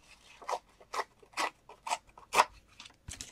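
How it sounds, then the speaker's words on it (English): Scrap paper is torn by hand for a card in a quick run of about seven short ripping bursts, each a crisp close rasp, spaced roughly half a second apart with brief quiet gaps between. "I don't feel like cutting, so let's just tear some off"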